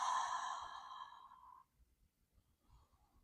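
A slow, audible breath pushed out through the mouth during a gentle yoga breathing exercise, voiced like a sigh, loud at first and fading over about a second and a half, followed by quiet breathing.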